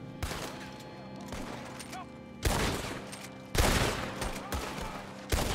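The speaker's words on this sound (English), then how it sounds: "I'm sick of shooting people's hats off and not their heads." Western-era gunfire in Red Dead Redemption 2, with several sharp loud shots separated by pauses amid background game ambience and occasional voices.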